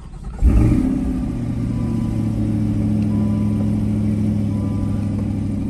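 A 2021 Chevrolet C8 Corvette engine fires up with a sharp burst, then settles into a steady, deep, rumbling idle, close and loud, with no talking.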